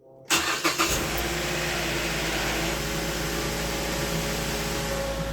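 A Mazda5 engine cranks and fires after an oil change, with a few quick starter bursts before settling into a loud, steady idle that continues to the end.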